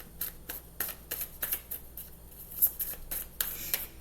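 Tarot cards are shuffled and pulled by hand in a quiet room, a series of soft, crisp riffling snaps and brushes coming in irregular quick bursts close to the listener.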